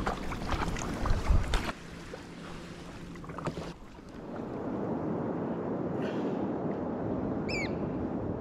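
A sea kayak is paddled on a coastal estuary in eastern Victoria, with splashy paddle strokes and knocks early on, then a steady wash of water and wind and a few distant bird calls near the end.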